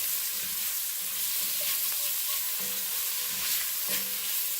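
Turkey sausage fries in vegetable oil in a pan on a gas stove over medium heat, a steady close sizzle with occasional soft stirring scrapes.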